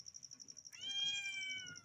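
A pet cat meows for food: a long drawn-out, close, clear meow following a faint repeated tone, alone without talk.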